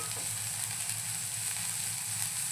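Chopped onion sautés in a pan for a Malvani-style French beans dish, giving a continuous close sizzle and frying hiss with a faint low stirring rumble underneath and no talk.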